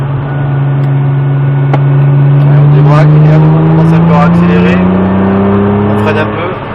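Nissan GT-R with a 550 hp 3.8-litre V6 driven hard on a track, its engine drone rising steadily in pitch and holding loud and close throughout, with an instructor talking over it.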